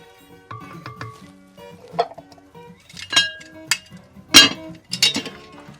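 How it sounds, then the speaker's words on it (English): A spoon stirs vegetarian chili with tomatoes in a cast-iron potjie pot, making scattered scrapes and sharp metallic clinks that come in uneven bursts, close and fairly loud. "Oh yeah, look at that, stir up."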